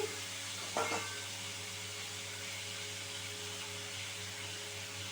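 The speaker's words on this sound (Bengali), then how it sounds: "চিকেনগুলো হালকা একটুখানি আমি ফ্রাই করে নিচ্ছি" Chicken pieces frying lightly in a small amount of oil give a constant gentle sizzle, with one brief clatter near the start.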